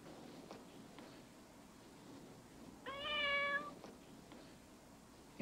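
A cat from a late-1980s/90s Whiskas cat food commercial gives a single clear meow, bright and close, over a low background hum.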